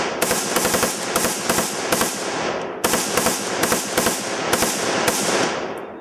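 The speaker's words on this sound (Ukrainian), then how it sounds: "Юнаки стріляли з автомата Калашникова, справжніми бойовими набоями" Bursts of Kalashnikov automatic rifle fire with live rounds crackle in quick rhythmic volleys, two runs of rapid sharp shots separated by a brief gap.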